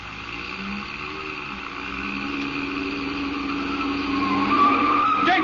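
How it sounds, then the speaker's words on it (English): A car's tires squeal and skid as it swings hard around a corner, a long, loud, rising screech over the engine's drone that builds toward the end. "You turn that corner on 2 wheels."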